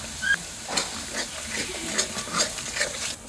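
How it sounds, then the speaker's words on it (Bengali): Spice paste made with Kashmiri chilli and a little water is sautéed in a pan for a paneer curry, a soft continuous sizzle and hiss with scraping stir strokes, close and moderately quiet. "এবার মশলাটাকে ভালো করে কষাবো।"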